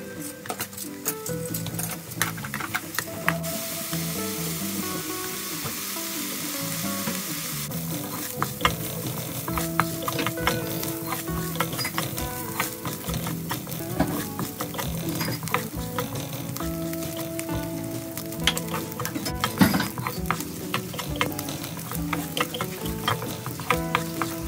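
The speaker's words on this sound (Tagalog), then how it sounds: "lutuin na natin yung ating bacon" Bacon fries in a little olive oil in a pan, a steady close sizzle with occasional scraping and stirring clatter, no talking.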